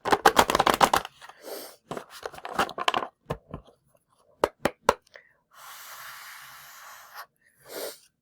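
A deck of rune cards is riffled quickly at close range in a rapid burst of flicks, followed by softer shuffling, taps and rustling.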